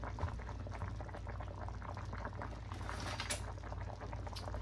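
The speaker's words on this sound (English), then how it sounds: "this has come to a boil" A pot of potatoes for corn chowder at a rolling boil, steady bubbling and burbling of water heard up close, fairly quiet and without speech.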